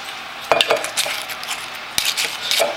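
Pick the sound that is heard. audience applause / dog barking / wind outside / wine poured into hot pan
wine poured into hot pan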